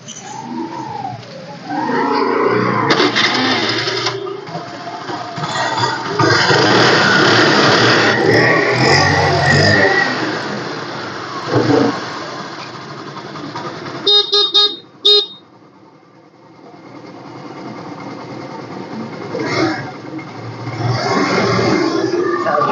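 Honda Pleasure scooter starting and running, a loud steady engine note with brief revving, a sharp break midway, then idling on, with no talk over it.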